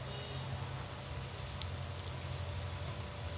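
Egg fritters sizzle in hot oil in a home kitchen, a soft, continuous crackling hiss with scattered faint pops, quiet and alone without speech.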